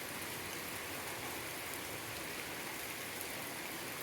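Steady rain falls on an outdoor spot where ducks gather, a dense even hiss of drops that stays constant from start to finish with no voices.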